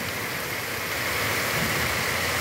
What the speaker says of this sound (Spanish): Qué fuerte lluvia, mis amigos